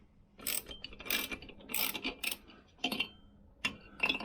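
Wrench loosening the cylinder head nuts on a Vespa PX200 scooter, a series of ratcheting clicks and metallic turns in uneven bursts, close and moderately loud with no talking.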